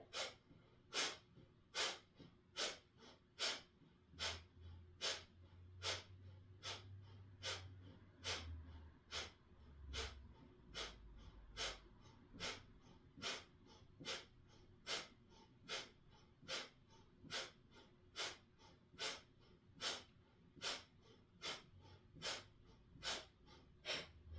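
Rapid, rhythmic breath work during a beginner yoga session, with sharp, evenly spaced exhales repeating about once a second for the whole stretch, close and clear, with a low murmur partway through.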